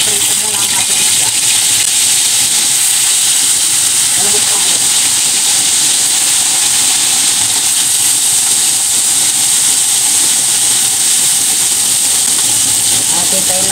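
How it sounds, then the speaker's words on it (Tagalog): Fish frying in a home-cooking pan gives a loud, continuous hiss that fills the whole stretch without pause, with faint voices low underneath. "atin ang iprito muna ang ating isda"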